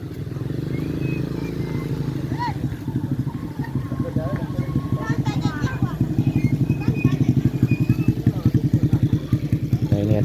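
A motorcycle rickshaw (becak motor) putters past with a steady, throbbing single-cylinder engine that grows louder and more rhythmic as it nears, while people talk in the background.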